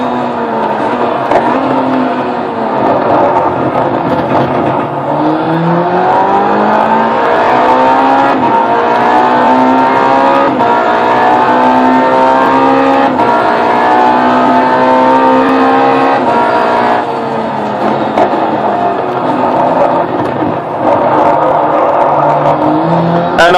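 Engine of a car in a racing video game played with a steering wheel, a loud sustained roar with pitch rising and falling through gear changes as the car fishtails, continuous and close throughout.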